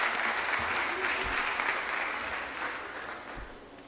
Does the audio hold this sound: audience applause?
yes